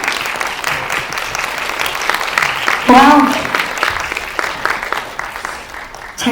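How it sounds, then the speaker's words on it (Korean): At a Korean press conference for Wētā FX visual effects crew, an audience claps steadily to welcome three guests, with a host speaking over the applause and a brief exclaimed voice partway through. "세 분을 박수로 모시겠습니다."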